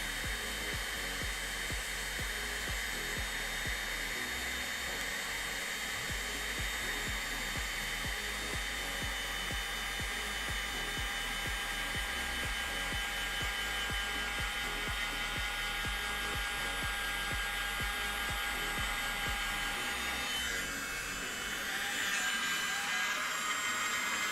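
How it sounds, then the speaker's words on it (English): A mini leaf blower runs steadily for about twenty seconds, blowing out tie-dye beds with a constant close whine, its airflow shifting and roughening near the end. "Mini leaf blower."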